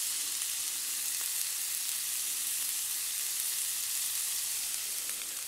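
Food sizzles steadily in a Bromwell cold handle frying pan outdoors, a continuous bright hiss of frying oil, close and even throughout with no talk.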